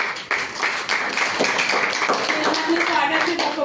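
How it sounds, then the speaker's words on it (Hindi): Audience at a gurukul event clapping for the girls, a brisk, fairly close round of hand claps with individual claps audible, mixed with a voice speaking over it. "इन कन्याओं के लिए, दुर्गा माताओं के लिए एक बार तालियां बजाएं।"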